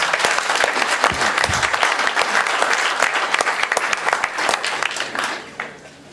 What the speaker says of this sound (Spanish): vamos a brindar su aplauso a la compañera Angélica